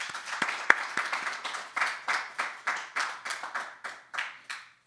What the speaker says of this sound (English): Please give yourself a big round of applause for being part of the Language Awareness Week 2023.